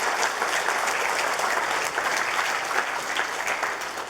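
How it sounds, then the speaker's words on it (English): Steady, dense audience applause for panelists at a financial confidence forum held in the evening, a continuous wash of clapping from a full room lasting about four seconds, with no speech over it. "How about giving them a round of applause and thank them for being with us tonight."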